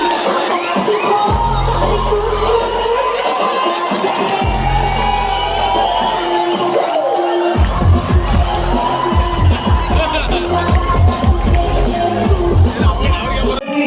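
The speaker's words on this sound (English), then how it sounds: "Give them a round of applause, for him, please." A loud crowd at an awards party cheers, whoops and shouts over steady clapping, with a low thumping music beat that stops and starts beneath the noise before it swells again.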